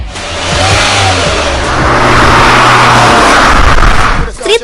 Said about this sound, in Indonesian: Knalpot Valvetronic yang ini tuh memiliki 3 mode suara loh, yaitu mode suara normal